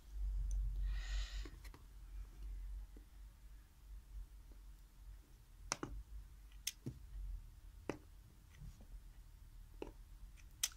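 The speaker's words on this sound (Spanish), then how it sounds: "Cada vez que quiero colocar uno, hago clic aquí y se deja ir." A 5D diamond painting pen clicks sharply several times at irregular intervals in a quiet room, each click crisp and close against a faint hum.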